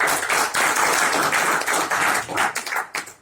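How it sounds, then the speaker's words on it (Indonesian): Audience at a company forum clapping on request, a dense, fairly loud patter of many hands that swells and dips in waves before tapering off. "Tepuk tangan dong."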